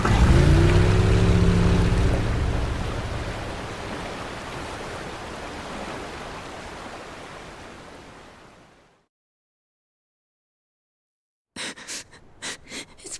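A boat engine at full throttle in the video game Like a Dragon: Pirate Yakuza, a loud steady roar with rushing water that fades out over several seconds, then a gap and a few short bursts.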